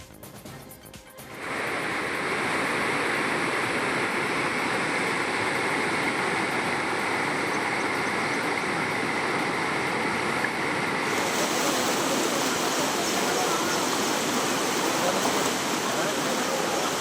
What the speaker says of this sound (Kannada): ಕಲಬುರಗಿ ನಗರದಾದ್ಯಂತ ಭಾರೀ ಮಳೆಯಾಗಿದೆ.